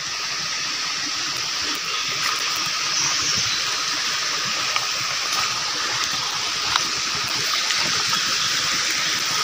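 A village stream in hilly forest country rushes steadily, a dense, continuous broadband wash of flowing water at constant loudness with no pauses.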